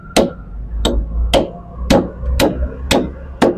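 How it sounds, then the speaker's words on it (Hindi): Seven sharp, evenly spaced metal strikes ring out as a screwdriver is hammered into the corner of an oil seal on a John Deere Green System rotavator, loud and close with no talk. "ऑयल सील के कौन से भी एक कोने में स्क्रू ड्राइवर से ठोक कर"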